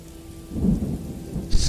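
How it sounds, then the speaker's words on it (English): Rain and thunder in the game Morrowind, a low rolling rumble of thunder under a steady hiss of rainfall, with a brief brighter splash near the end. "It's raining again."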